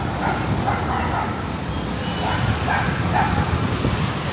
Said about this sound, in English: He's getting attacked by his own dogs.